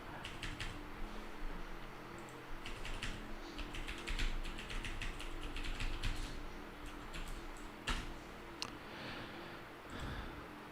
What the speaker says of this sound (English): Oops, I'm just typing that out.